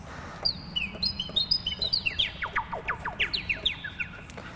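Synthesized whistle tones built in Ableton Live mimic forest birds, quick chirping sweeps that rise and fall in a rapid, lively series, fairly close and alone over a soft hum.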